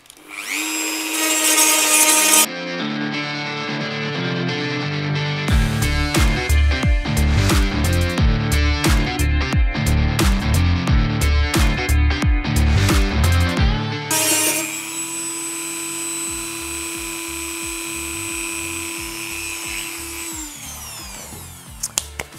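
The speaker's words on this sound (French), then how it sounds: "Alors, on va meuler un petit peu cette affaire, là." An angle grinder cuts into the metal power supply case built for six NUC mini PCs. The motor whines loudly in bursts with harsh grinding, then spins down with a steady fading hum.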